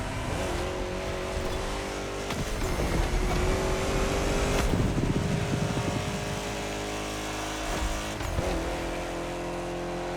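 A Lancia Delta HF Integrale in The Crew Motorfest racing game drones loud and steady through a constant engine note, rising and falling slightly as it accelerates, with no voices.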